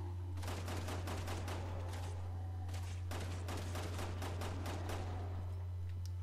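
Rapid bursts of gunfire in the video game Resident Evil 6, two volleys of repeated sharp shots over a steady low game hum, with no talking.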